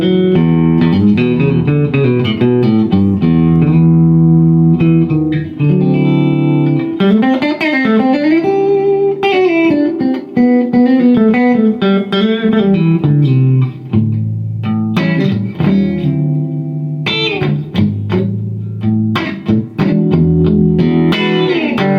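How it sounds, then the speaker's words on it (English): Electric guitar played through an Ironhorse Heritage Blackface 1x12 combo amp with its reverb turned up, sustained chords and single-note lines ringing loudly and continuously. "Just turning up the amp reverb a little bit."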